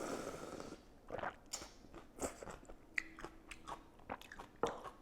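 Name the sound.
eating and slurping Korean kimchi noodles and broth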